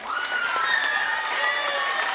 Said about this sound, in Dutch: Wil ik tot slot een heel groot applaus voor alle trainers van de minis.